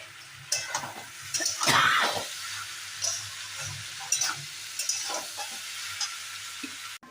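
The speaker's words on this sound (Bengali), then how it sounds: "এটা ভাজা ভাজা হবে লতিটা।" Boiled taro stolons are stirred and fried in a pan, giving a faint sizzle broken by soft scraping and clattering stirring strokes, close up, with no talking.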